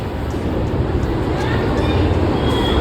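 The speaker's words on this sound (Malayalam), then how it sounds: "മെട്രോ ട്രെയിൻ ഡേ വരുന്നു നമ്മൾ ഇതിലാണ് കയറേണ്ടത്" A metro train pulls into a station in a crowded Indian city, a loud, steady rumble and rush filling the space close by.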